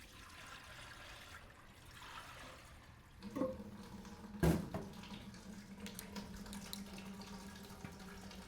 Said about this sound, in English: We'll pour some more water down there.